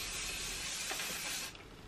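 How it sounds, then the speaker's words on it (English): Dry oil hair spray hisses from a can onto hair in one continuous close burst lasting about a second and a half, then cuts off to quiet. "I'm going to be using the dry oil spray"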